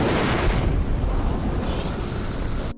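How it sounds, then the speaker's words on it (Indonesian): An oil pipeline leaks fire and explodes in a film scene, a loud, sustained roaring blast of broadband rumble that holds steady before tapering slightly. "Sialnya pipanya malah bocor dan mengeluarkan api lalu meledak"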